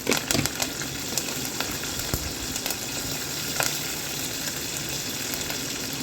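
Curry leaves crackle in hot oil as a tempering for an anchovy aviyal, a steady dense sizzle with scattered pops throughout, close and moderately loud.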